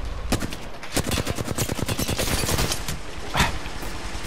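An L-Star energy light machine gun fires in Apex Legends, a long sustained burst of rapid, evenly spaced loud shots close by, with a brief pause and a final sharp crack near the end.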